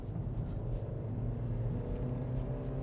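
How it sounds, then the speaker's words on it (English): VW Polo R-Line engine droning as the car climbs a hill, a steady low rumble heard from inside the cabin, continuous and moderately loud without clear rev peaks. "You've got to rev it a little bit."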